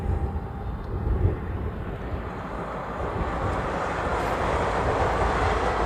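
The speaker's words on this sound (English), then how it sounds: "Now we have a Alaska and a FedEx heading out to the Reef Runway." Alaska and FedEx airliners taxi out toward the Reef Runway, a low, steady jet rumble and whine that swells gradually as they roll past, heard outdoors at a moderate distance.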